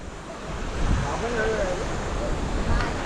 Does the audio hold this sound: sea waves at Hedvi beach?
yes